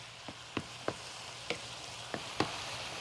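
Cauliflower frying in a skillet gives off a steady, soft sizzle broken by about half a dozen sharp crackling pops spaced irregularly, each close and brief.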